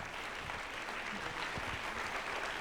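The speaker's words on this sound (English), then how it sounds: "Let's give a round of applause for a real face." Audience applause at a 1988 Toronto–Paris event, a brief, steady burst of clapping from a crowd with no other sound.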